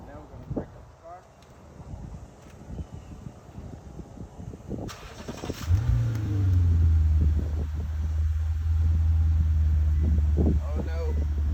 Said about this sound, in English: But now we're gonna crank up the car.